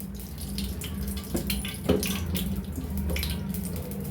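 Cooking oil poured into a heated pan while making homemade brinjal kosthu gives a steady, close stream of liquid hiss and splash that runs unbroken without any voices.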